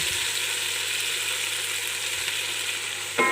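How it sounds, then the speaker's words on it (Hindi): Chicken and vegetables sauté in a pan, giving a close, steady sizzling hiss throughout, with a brief stirring scrape near the end. "चिकन टेंडर हो गया है, अब हम इसके अंदर बाकी वेजेस ऐड करते हैं।"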